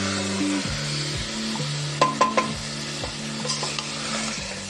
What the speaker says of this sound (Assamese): ভালকৈ আকৌ ভাজিম।